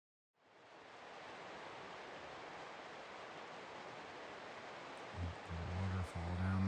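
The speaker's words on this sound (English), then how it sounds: "Waterfall down there," Steady broadband rush of a waterfall heard from a mountain ridge above, a constant soft roar, with a voice speaking briefly near the end.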